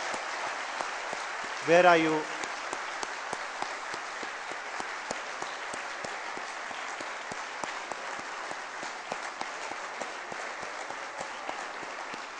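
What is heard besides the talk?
audience applause for student ushers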